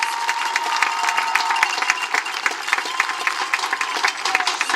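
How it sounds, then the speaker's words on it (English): A round of applause from the crowd at a high school football game in the stands at Campbell County, broad and continuous with scattered sharp claps, heard from a distance across an open stadium. "Please give all these young ladies and their escorts a round of applause"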